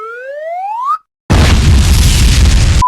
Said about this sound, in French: Attention grenade!